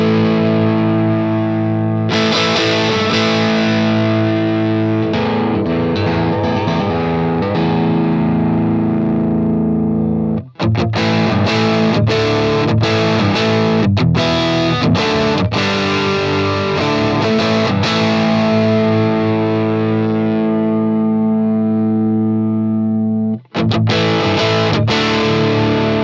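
Distorted electric guitar played through a real amp and pedals, miked with a single MIKKO Reflex 57, with thick sustained chords and choppy strummed bursts, loud and continuous with no voices.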